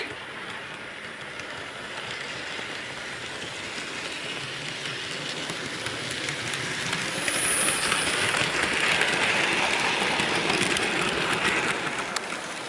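A small Bachmann model train rolls steadily along its track, a soft continuous rumble with light clicking, fairly close and gradually growing a little louder.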